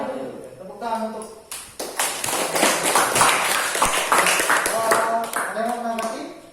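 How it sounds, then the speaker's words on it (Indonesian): A classroom audience bursts into sustained applause that swells for several seconds, with speech heard over it at the start and end. "Tepuk tangan untuk"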